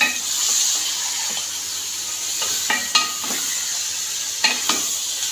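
Chicken roasts over high heat in a pan with a steady close sizzle, punctuated by several sharp scraping knocks of stirring.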